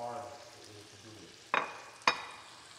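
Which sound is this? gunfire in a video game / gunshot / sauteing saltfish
sauteing saltfish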